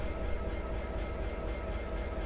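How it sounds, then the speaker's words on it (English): A train passes on the Settle to Carlisle line in Train Simulator, a steady close rumble that holds at an even level throughout with no talking. "the reason why we're stuck at this moment is because there's a train coming through."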